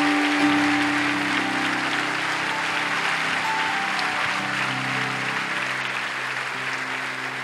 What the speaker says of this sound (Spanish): Si va a aplaudir, aplauda al Señor.